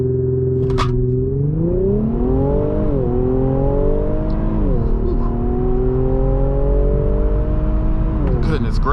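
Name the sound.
Infiniti Q60 Red Sport 400 accelerating hard from a brake-torque launch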